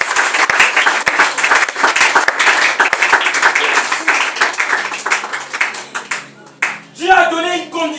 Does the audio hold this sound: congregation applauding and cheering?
yes